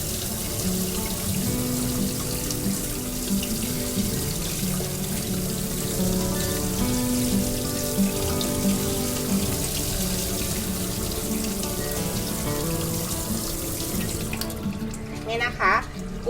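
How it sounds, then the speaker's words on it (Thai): Kitchen tap water runs steadily over frozen shrimp in a sink to thaw them, a continuous splashing flow with someone speaking quietly over it and a brief clatter near the end. "ก็ให้เราเปิดน้ำให้น้ำไหลผ่านแบบนี้นะคะ"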